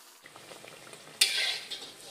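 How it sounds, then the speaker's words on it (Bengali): Bathua puris deep-fry in hot oil, starting as a soft bubbling then swelling into a loud, close sizzle as dough is pressed into the oil, with faint utensil clinks and no talking. "এইভাবে সমস্ত পুরিগুলো কিন্তু আমি ভেজে নিচ্ছি।"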